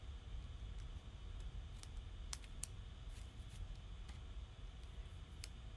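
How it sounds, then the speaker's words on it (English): Scissors trimming extra material from a glued craft project, a few faint crisp snips scattered over several seconds against a quiet steady background hiss. "cut off the extra."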